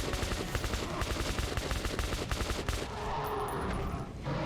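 Rapid automatic gunfire in the video game Metro: Last Light, dense bursts of shots up close that fade into lingering echo and rumble.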